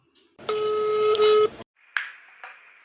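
Phone dialing a call: a long steady tone lasting about a second, then after a brief gap two short, sharp electronic beeps, each fading quickly, heard close and clear with no talking.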